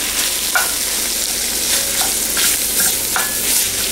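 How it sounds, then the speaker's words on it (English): Garlic sizzles steadily in a hot pot while a spoon stirs it with occasional scraping knocks, loud and close, with no voices. "2 teaspoons of garlic. Stir that up."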